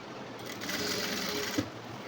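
A sewing machine stitches the folded-over hem of a churidar top in one short whirring run of about a second, loud and close, with no speech.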